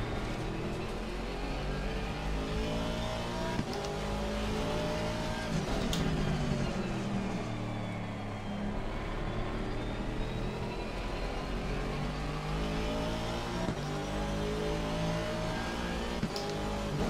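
A race car engine drones and revs steadily at Watkins Glen in the rain in Assetto Corsa Competizione on Xbox Series X, rising and falling through gear changes, loud and continuous with no talk.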